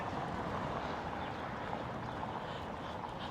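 Steady low rumbling wind buffeting a microphone outdoors in Doha, Qatar, a continuous broadband roar with no pauses and no voices.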